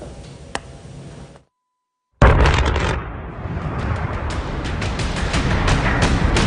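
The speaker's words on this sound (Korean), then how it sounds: "폭발음과 함께 연기가 솟아오르고 용암이 흘러내립니다." Volcanic eruption in Hawaii with deep rumbling blasts and crackling bursts, loud and sustained after a short gap of silence, with rough roaring noise continuing throughout.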